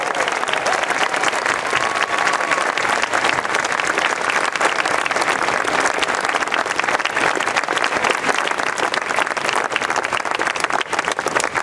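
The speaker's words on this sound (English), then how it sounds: "please stand up so we can give you a wonderful round of applause" Graduation audience applauding the class of 2015, a sustained, loud and dense wash of clapping filling the hall evenly for over ten seconds with faint crowd noise underneath.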